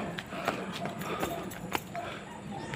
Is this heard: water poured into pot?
no